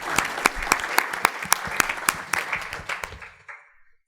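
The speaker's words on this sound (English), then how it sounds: "Round of applause." An audience at a national young adult ministry summit applauds, a brisk burst of many hands clapping that fades out toward the end.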